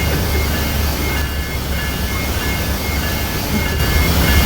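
A train rolling along the track in the Trainz 2019 railway simulator, a steady loud rumble of wheels and cars with faint repeated clicks and a thin high whine running throughout, no voices.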